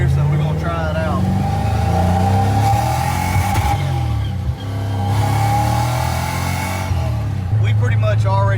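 Turbocharged car running only about 5 psi of boost revs hard up close, a steady droning engine tone rising and falling over roughly eight seconds, with people talking over it.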